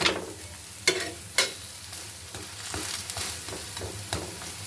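Spinach pancakes fry in oil in a pan with a soft, steady sizzle, broken by a few sharp scraping clicks from a spatula turning them.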